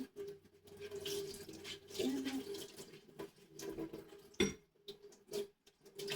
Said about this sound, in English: I needed to wash my hands anyways